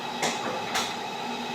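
A handle-less kitchen cabinet door under construction, above the sink where plates are kept, is pulled open with two short scraping clacks about half a second apart, close by and fairly quiet.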